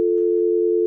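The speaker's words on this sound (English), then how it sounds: "So let us open the phone lines, give him a call" A steady telephone dial tone on an open phone line, heard while placing a call to a radio show guest; one continuous, loud, unbroken hum with no talk over it.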